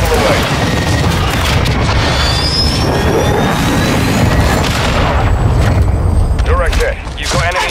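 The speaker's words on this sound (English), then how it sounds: "Trojan 6-2, cruise missile away." A Call of Duty cruise missile strike unleashes a loud, sustained rumbling blast with roaring broadband noise and a jet-like whine, while voices talk over the din.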